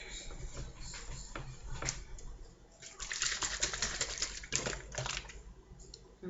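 A plastic sensory bottle filled with water, glitter and a little red colouring is shaken by hand, giving rapid rattling, sloshing bursts that come and go close to the mic, with faint voices in the background.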